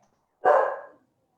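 A small dog gives a single loud, close bark that rises sharply and fades within about half a second, alone against silence.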